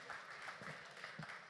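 An audience applauding the winner at an innovation prize ceremony at the Municipalia trade show, a steady, moderately faint patter of clapping with a voice briefly audible under it.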